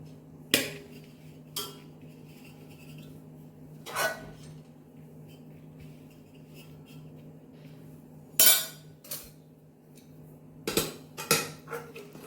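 Cooked rice being spread across the bottom of a cooking pot for masoor biryani, heard as a handful of sharp, close metallic clinks and knocks of a utensil against the pot, spaced irregularly over quiet background hum.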